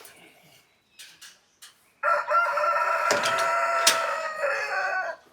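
A rooster crows loudly and close by in the chicken section of a Kerala farm, one sustained crow lasting about three seconds after a few short clucks and calls.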